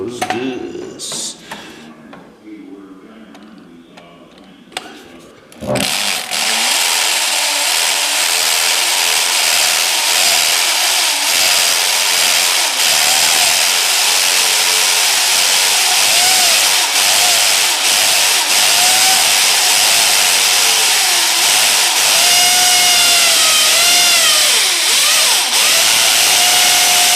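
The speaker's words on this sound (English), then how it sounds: "I could drill these holes now" A power drill bores holes in shoe molding from Lowe's, a loud continuous whine that starts after a few seconds of quiet handling noise and holds with small shifts in pitch as it bites into the trim.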